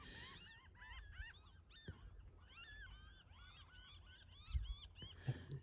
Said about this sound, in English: It's the bird chorus.